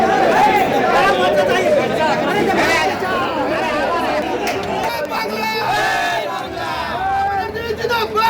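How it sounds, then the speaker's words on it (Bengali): Rival political crowds of Trinamool and BJP supporters trade slogans in Jagaddal, West Bengal, outside Arjun Singh's house, shouting Joy Bangla against Arjun Singh Zindabad. Dense, continuous, loud shouting and babble from many voices fills the whole stretch. "দেখতেই পাচ্ছেন জগদ্দলে তৃণমূল বিজেপি স্লোগান যুদ্ধ, যার জন্য উত্তপ্ত পরিস্থিতি জগদ্দলে"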